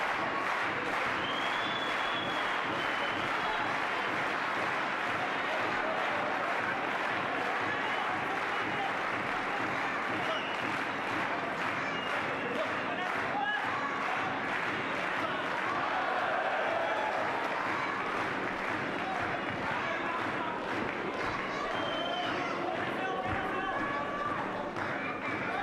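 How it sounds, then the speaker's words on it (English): A boxing arena crowd at a WBC 168 lb title fight claps and cheers in a continuous, even roar, with scattered sharper claps over a distant hum of voices. "the crowd now very happy about Beyer's performance here"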